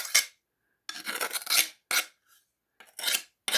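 Glass breaking pliers nibble and grind along the cut edge of a glass piece in several short, close, scraping bursts. Silent gaps separate the bursts, and no one speaks.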